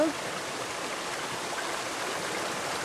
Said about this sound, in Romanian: de aici izvorăște, adică iese din subteran